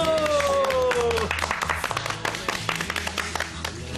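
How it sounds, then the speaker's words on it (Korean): A small group of people clapping in congratulation indoors, brisk irregular claps starting after a voice and continuing for several seconds, close and moderately loud, with some talk mixed in at the start. "박수!"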